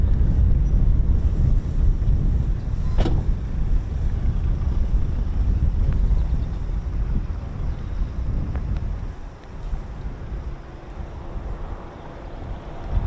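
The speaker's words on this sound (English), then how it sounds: "It's a bit windy up here." Strong wind buffets the microphone in a continuous low roar at RAF Coningsby, gusting unevenly and easing slightly toward the end.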